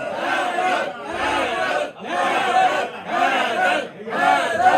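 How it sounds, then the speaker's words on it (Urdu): A large crowd chants "Haider" in unison with both arms raised at a religious gathering celebrating the birth of Ali, a rhythmic two-beat call repeated several times with brief pauses, loud and reverberant. "دونوں بازو بلند کر کے حیدر حیدر."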